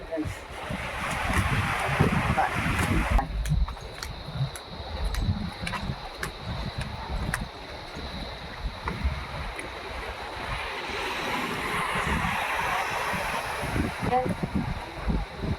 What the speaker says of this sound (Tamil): கண்ணு கெட்டின தூரம் பூரா கடல் கடல்லே நிற்கிறோம்